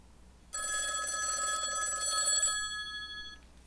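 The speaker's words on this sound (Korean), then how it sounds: "전화벨 소리는 분명히 꿈 바깥에서 밤이 깊어가는 줄도 모르고 울렸다." A telephone bell rings in a late-night scene of an audiobook, a steady bright electronic trill starting abruptly, holding for about three seconds and then fading, heard alone with no talk.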